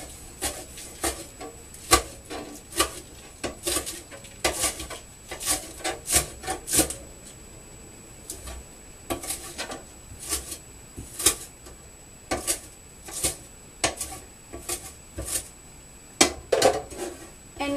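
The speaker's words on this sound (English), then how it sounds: "So we're going to chop this up finely here." A knife chopping spinach finely on a wooden board for a tofu curry, a close series of crisp rhythmic taps in bursts with short pauses, with no talking.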